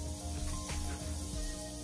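Onions sizzle steadily in a pot as they start cooking for a curry salmon in coconut milk, a soft, even frying hiss heard close up with no talking.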